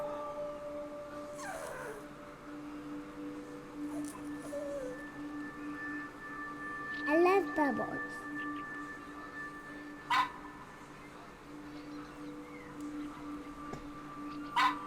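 Pet dog Manju gives a few brief whimpering yips and a short bark, scattered at moderate distance over a steady background hum, with a voice speaking briefly.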